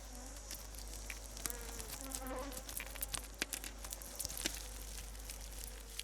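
Young honeybees buzz faintly inside the hive among the brood cells, a soft, continuous hum with flickers of wing noise and small tapping sounds.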